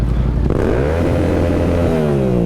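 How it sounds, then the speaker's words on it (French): A motorcycle engine revving hard on a city street, a loud close roar that climbs and falls, with harmonics sweeping up and down as the throttle is worked. "Je vais faire cracher ta moto un peu."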